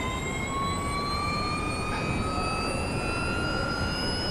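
A Porsche Mission R in the iRacing simulator accelerates at Spa, its electric drivetrain letting out a rising whine layered over a steady roar as speed builds, with no voices.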